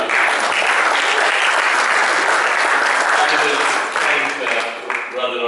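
A crowd at an inter-faith friendship gathering in New Zealand claps in sustained, dense applause that thins slightly toward the end.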